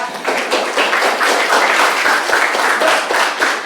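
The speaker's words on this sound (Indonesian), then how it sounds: "Boleh tepuk tangan Dava ya" A seventh-grade classroom of students claps for a classmate, a steady, close patter of many hands lasting a few seconds.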